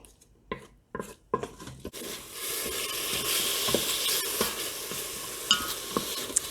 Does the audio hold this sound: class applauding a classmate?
no